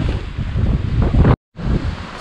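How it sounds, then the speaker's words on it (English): Strong gusty wind buffets the microphone at Lake Tekapo while a tent is being pitched, loud and roaring, broken by a brief sudden dropout before the buffeting resumes. "It's quite windy."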